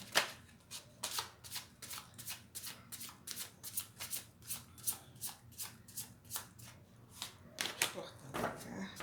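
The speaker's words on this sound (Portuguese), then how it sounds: "Cortando a carta." A tarot deck shuffled steadily by hand, with a long run of regular crisp card slaps and riffles close up, ending in a brief cut of the deck; a low background hum sits underneath.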